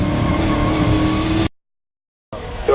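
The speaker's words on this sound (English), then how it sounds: "that engine does not sound at all happy or healthy or wealthy or wise" Racing car at a Crystal Palace sprint event, engine sounding rough and unhealthy, revving loudly up close, cutting out abruptly to dead silence partway through before returning more thinly.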